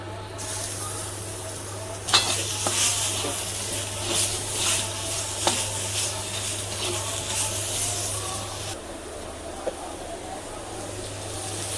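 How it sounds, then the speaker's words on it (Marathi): Steady loud sizzling of paneer frying with masala in a hot pan, with occasional clinks and scraping, continuing for several seconds before easing off. "पनीर टाकते आता इथं."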